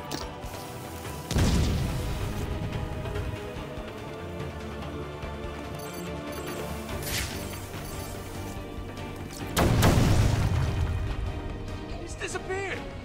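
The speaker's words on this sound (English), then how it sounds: "Grenade!" Grenade explosions in Batman: Return to Arkham, two loud booming blasts several seconds apart over a dense game soundtrack, with characters shouting around them.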